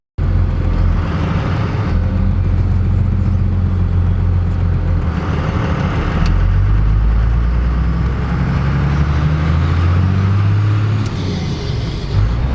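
A modified Cummins diesel truck driving with the engine revving, a loud, close, deep rumble held steady for the whole stretch, with road and wind noise layered over it and no talk.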